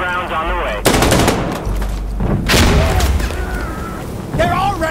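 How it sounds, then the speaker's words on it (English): Bursts of automatic gunfire and heavy booming artillery explosions in the video game Insurgency Sandstorm, loud and close, with shouted voices between the blasts. "Requesting explosive rounds here! Fire the guns, hit them hard!"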